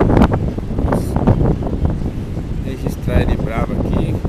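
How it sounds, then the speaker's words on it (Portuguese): Strong wind buffets the microphone on the coast at Mongaguá on the south coast, with rough surf under stormy skies, giving a loud, continuous rumble with gusty swells throughout. "Alerta de vento forte."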